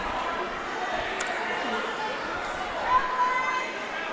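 Steady crowd murmur fills a gym during a high school varsity wrestling tri-match in Gardendale, a broad wash of chatter with a few brief shouts rising near the end.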